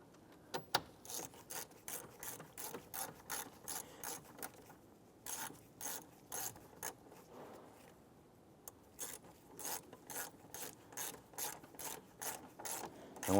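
Ratchet snugging down the radiator mounting bolts on a 2015-2020 Cadillac Escalade, a close run of quick clicking bursts in steady strokes, with a brief pause partway through.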